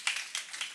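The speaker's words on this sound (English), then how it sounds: "Does he deserve a round of applause for that?" Audience applause at a business summit, a brief, faint patter of several hand claps from a small group, with no voices over it.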